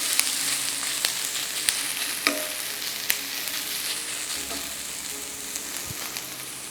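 Pumpkin pieces sizzle steadily in a hot pan for a Sri Lankan tempered pumpkin dish with peanuts. Sharp clicks and scrapes of stirring break through the constant frying hiss, and no one speaks.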